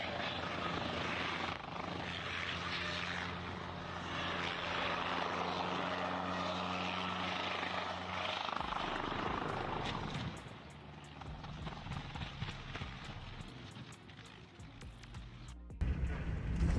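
A helicopter flies steadily with a loud, continuous rotor and engine drone, then the sound turns rough and broken with sharp clattering bursts as the pilot loses control just before it crashes.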